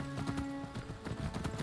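Quick, rhythmic clip-clop of a horse's hooves in a video game village, steady and close over a continuous game music bed.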